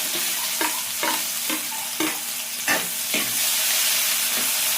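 Tomato, garlic and onion sautéing in a pan for a mung bean dish, with a steady loud sizzle and regular scraping strokes of a spatula about every half second, close and without talk.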